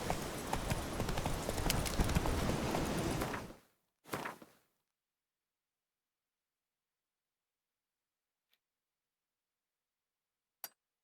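Hooves of Roach the horse trotting in The Witcher 3, a loud steady clip-clop for a few seconds, a short final burst, then near silence with a faint click or two.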